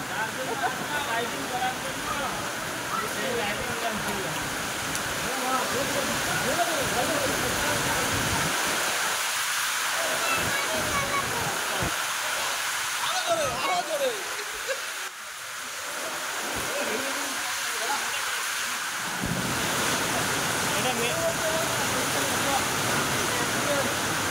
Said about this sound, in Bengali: বৃষ্টিটা পড়ে গেছে